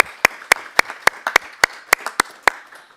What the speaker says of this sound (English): So if we can give him a round of applause as well.